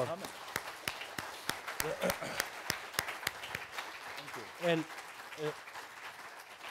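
An audience at a book launch talk about George Washington gives thin, scattered applause, individual claps standing out over a quiet room while someone speaks over it.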